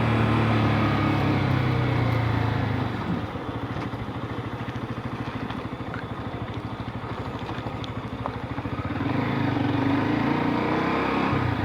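A vehicle drives along a road, its engine a steady, rumbling drone with a rougher clattering stretch in the middle, heard close and continuous with no talking.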